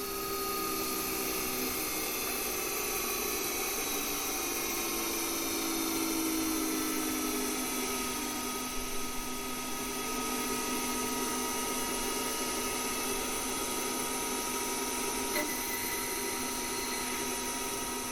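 A CNC lathe turns a brass part at 3000 RPM, giving off a steady, high, whining hum with sustained tonal lines that runs evenly and moderately loud throughout.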